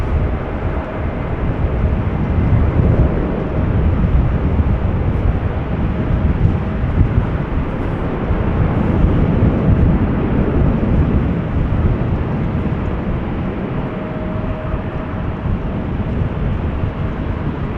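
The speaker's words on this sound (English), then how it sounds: "Suparna Airlines to Hefei, 747-400 taking off from runway 24" A Boeing 747-400 takes off from runway 24 at Schiphol, its loud continuous jet roar rumbling steadily throughout, broad and heavy with wind buffeting the microphone.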